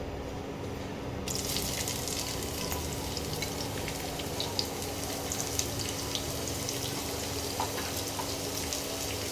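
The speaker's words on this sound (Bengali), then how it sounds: "দুটো মাঝারি সাইজের পেঁয়াজ কুচি করে রেখেছি, এইটা এবার তেলে দিয়ে দেবো" Finely chopped medium onions go into hot oil in a pan, producing a steady, close, dense frying hiss with crackle that runs unbroken for several seconds, with no talk over it.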